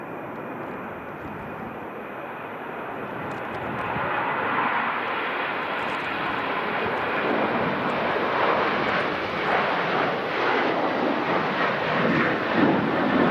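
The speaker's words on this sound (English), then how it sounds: "this Ryanair immediately in front of us is heading to Lisbon" A Ryanair airliner departs for Lisbon from Manchester Airport in strong storm winds, its engines a broad roaring rumble that swells and holds steady, loud and continuous with wind buffeting the microphone.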